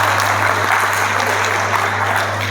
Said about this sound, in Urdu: ان کے لیے تالیاں ایک بجنی چاہیے